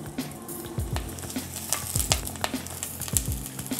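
Spring onion fries in a little oil, a continuous sizzling hiss punctuated by close, rhythmic scrapes and knocks of a utensil stirring in the pan.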